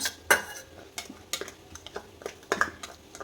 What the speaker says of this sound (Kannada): ಈಗ ಇಷ್ಟು ನಾನು ಮಿಕ್ಸ್ ಮಾಡ್ಕೊತಾ ಇದ್ದೀನಿ